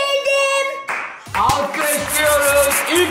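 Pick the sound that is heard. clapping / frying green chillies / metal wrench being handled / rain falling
clapping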